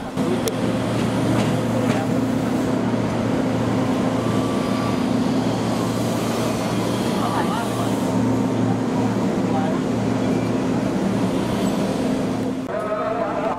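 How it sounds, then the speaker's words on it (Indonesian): A KRL JR 205-series electric commuter train at Kampung Bandan station, Jakarta, gives off a steady electric motor hum with tonal whine and rolling rumble, continuous and fairly close, with station ambience around it. "Jalur 4 ada KRL JR 20547 yang bertujuan ke stasiun Cikarang lewat Manggarai"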